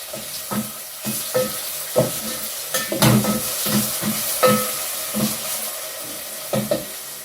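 Eggs frying in a pan with a steady sizzle, broken by repeated scraping and stirring strokes at an even rhythm, close and fairly loud.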